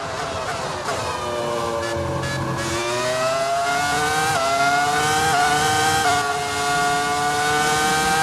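A high-pitched Ferrari V10 racing engine in an F1 video game screams continuously, revving up and down through gear changes, loud and close.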